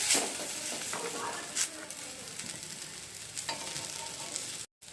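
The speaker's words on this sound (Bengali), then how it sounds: "সবজি বেগুন প্রায় ভাজা ভাজা হয়ে গেছে" Eggplant frying in a pan, giving a continuous close crackling sizzle with a few louder stirring scrapes, ending in a brief cut to silence.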